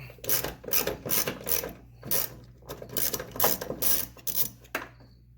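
Close, quick bursts of ratchet clicking while small 8mm bolts are backed out at the fuel pump access of a Nissan 300ZX, several short runs separated by brief pauses, no voices.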